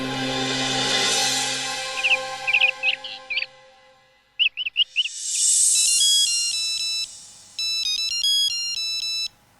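A phone ringtone plays up close, a synthetic melody of chirpy electronic tones and beeping chords repeating in short phrases, with no talking.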